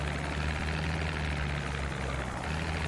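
A helicopter in the game Project Zomboid thrums loudly and continuously with a deep rotor beat and engine drone, close overhead, with no talk.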